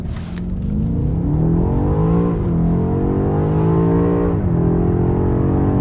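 A BMW X6 M Competition launches hard on a straight road, its engine roaring loud and close as the revs climb steadily through two quick gear changes with brief dips in pitch.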